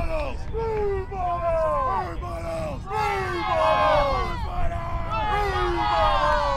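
Players cheering at a mixed ultimate frisbee match between Australia and Chinese Taipei, with overlapping shouts and whoops rising and falling over steady crowd hubbub throughout.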